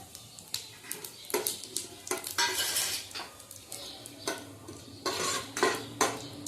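Whole spices, cloves and star anise, are stirred into hot cumin tempering in a pan for a raw mango pickle, with repeated close metallic clinks and scrapes of the spoon against the pan over a faint sizzle.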